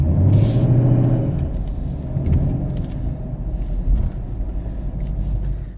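A 2017 Camaro rolling over speed bumps, a dense low rumble of engine and road noise with thumps and rattles as the car jolts, loud and close with no talk.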